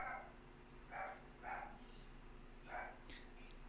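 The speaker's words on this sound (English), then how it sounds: "The puppy's feeling very talkative." Puppy barking in the Stardew Valley farming game, four short yaps spaced about half a second apart over a steady low background hum, moderately faint.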